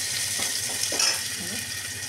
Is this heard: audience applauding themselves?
no